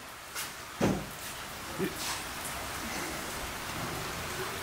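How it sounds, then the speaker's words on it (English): Rain falls steadily on a surface, with a few louder knocks and thuds early on against the constant patter. "Rain falling. It's raining."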